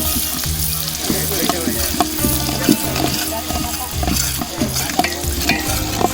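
Onion fries loudly in a pan for a village chicken dish, a steady dense sizzle with stirring scrapes and clinks throughout and nobody talking.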